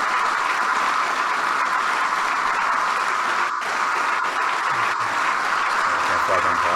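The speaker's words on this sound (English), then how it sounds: "You can't pause when they clap" An audience claps steadily and loudly throughout a political speech, a dense, continuous wash of applause that barely shifts over several seconds.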